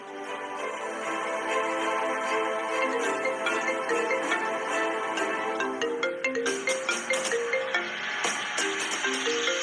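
A phone ringtone plays a steady melodic pattern for an incoming call, fairly loud and continuous, becoming more staccato and percussive toward the end, with no talk over it.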